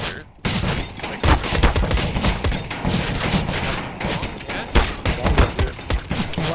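Gunfire in Counter-Strike: Global Offensive, a rapid flurry of overlapping shots and bursts, loud and close, running almost continuously with a few sharper cracks.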